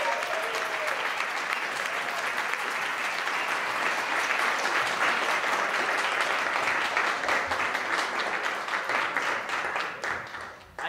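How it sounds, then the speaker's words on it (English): A comedy club audience in New York applauds a comedian being introduced, loud, dense clapping that holds steady for several seconds before tapering off at the end. "Adrian Colón, give it up."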